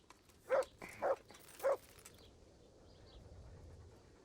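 Three short dog barks inside the medieval role-playing game Kingdom Come: Deliverance, fairly close and evenly spaced within the first two seconds, followed by quiet ambient background.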